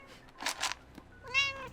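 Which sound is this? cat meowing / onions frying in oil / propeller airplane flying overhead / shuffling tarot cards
cat meowing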